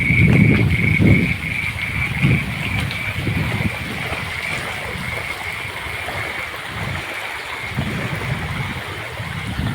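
Steady, fairly loud rush of rainwater pouring out continuously, like a small stream, after heavy rain, with no talking.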